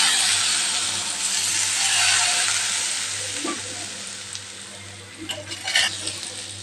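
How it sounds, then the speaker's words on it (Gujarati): Hot tempering is poured over palak paneer, bringing a strong crackling sizzle that slowly fades, followed near the end by a few sharp spoon or utensil clinks. "હવે આપણે આપણા ઉપરથી વઘાર ઉમેરી દેવાનો આવી રીતે"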